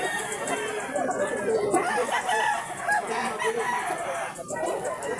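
Gamefowl roosters at a game farm crow amid a busy, noisy yard, with clucking and people chatting in the background throughout.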